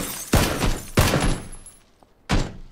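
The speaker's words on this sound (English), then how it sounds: "I'm shooting the window right in front of you." Gunfire in the shooter game PUBG aimed at a window: three sharp, loud shots spaced about a second apart, each with a short ringing tail, and no talking.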